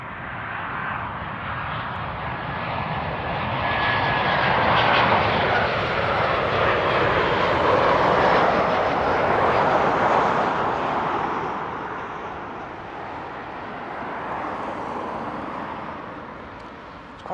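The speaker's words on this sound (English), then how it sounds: "It's that Jet 2 coming in." A Jet2 airliner approaches to land at Newcastle Airport, its engine roar swelling broad and steady over about fifteen seconds, then slowly fading as it passes.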